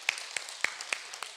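A few separate hand claps from a small group at a senior college class, sharp and evenly spaced, about five claps in under two seconds, close and fairly faint with no talk.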